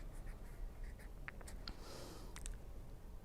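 A pen or marker scratches out short strokes while sketching a phasor diagram, faint and intermittent over a steady low hum, with a few quick squeaky marks close by and no voices.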